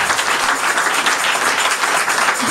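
A convention audience applauding its speakers, a dense, loud, continuous wash of many hands clapping that carries evenly from start to finish.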